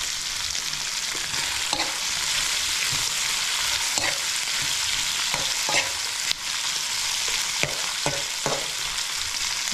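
Vegetables for Ilocano pakbet sauté in a pan, a steady bright sizzle running throughout with scattered scraping stir clicks and taps, fairly close and even in loudness, no voices.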